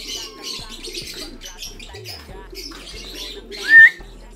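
Pigeons in a loft chirp and coo softly, with light wing flutters and a louder sharp call near the end.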